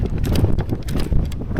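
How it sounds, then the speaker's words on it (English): Strong gusts buffet the microphone on a mountain bike trail at Glentress, a loud, rumbling low roar that surges and dips continuously with no voices. "it's so windy."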